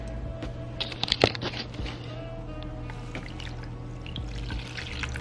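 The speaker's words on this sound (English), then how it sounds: "And then we're gonna add the water on it." Water is poured from a container onto ground flax seeds in a bowl, a short trickle with splashy drips and a sharp clink near the start, then low kitchen background.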